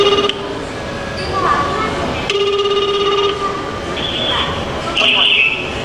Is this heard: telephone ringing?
yes